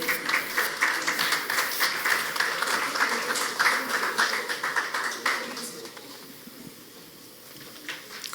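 Audience applause at an indoor conference forum, a burst of rhythmic clapping from a room of people that gradually thins and fades toward a few scattered claps.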